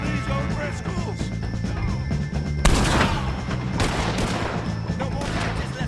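Gunfire in a Red Dead Redemption 2 shootout against O'Driscoll gang members, a steady patter of shots with heavier bursts midway, mixed with background game audio and some faint voices.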